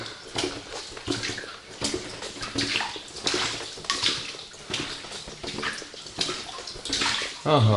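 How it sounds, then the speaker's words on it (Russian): Groundwater seeping and trickling into pre-revolutionary underground tunnels lined with calcite growths, a wet splashing and dripping wash that continues throughout while a voice briefly speaks. "грунтовые воды, вот так вот они и просачиваются"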